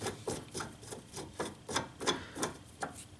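A Phillips screwdriver backs out a screw on a Toyota Prius headlight, making close, repeated short scraping and rubbing strokes in a steady rhythm, with no talking.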